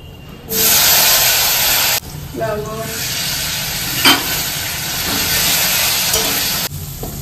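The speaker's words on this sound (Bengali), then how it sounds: "এই যে কালো জিরে দিয়ে দিলাম, এবার দিয়ে দেবো আলুগুলো।" Potatoes fry in hot oil with black cumin, giving a loud, continuous sizzle and hiss. It jumps in suddenly, dips briefly and resumes, with occasional stirring clatter and no talk.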